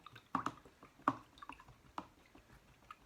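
A paintbrush swished and tapped in a jar of dirty rinse water while painting abstract squares, giving soft, close, irregular splashes and drips with quiet pauses between them.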